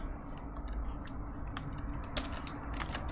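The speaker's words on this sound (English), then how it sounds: "I'm just going to start typing the answer to check the work" Fingers type steadily on a computer keyboard, quiet clicks in a soft irregular rhythm over a low background hum, with no talk.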